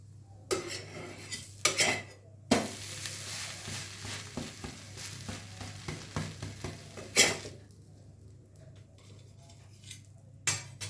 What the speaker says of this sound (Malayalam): ഇതേമാതിരി രണ്ട് സൈഡും ഒന്ന് ഫ്രൈ ചെയ്തെടുക്കുക.